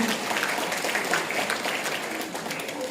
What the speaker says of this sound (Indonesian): Tepuk tangan untuk komunitas Basibah